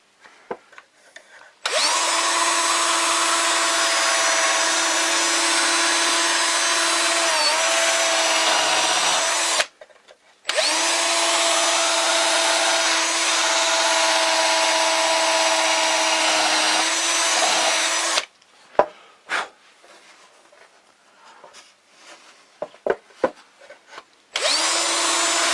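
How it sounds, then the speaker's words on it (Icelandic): A round file chucked in a power drill spins against wood in two long, loud, steady whining runs separated by a short stop, followed by quieter scattered knocks and handling sounds. "það má líka festa þjölina í borvélina."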